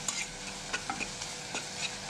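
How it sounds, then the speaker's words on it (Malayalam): Banana being stirred with sugar in a pan, a soft continuous scraping and faint sizzle with a few sharper utensil taps, close and fairly quiet. "പഞ്ചസാരയും കൂടി ചേർത്തിട്ട് നന്നായിട്ട് തന്നെ ഒന്ന് മിക്സ് ചെയ്യാം."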